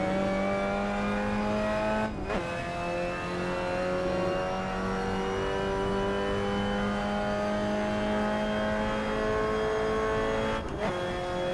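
Simulated Mazda MX-5 Cup race car in Assetto Corsa lapping Paul Ricard, its engine droning steadily and loud throughout with a rising pitch, broken by two brief dips as the driver shifts gears.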